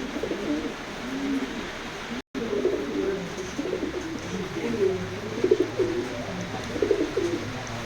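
Racing pigeons at a loft coo softly in repeated low, throaty phrases, steady and close, with a brief dropout midway and a murmur of background noise throughout.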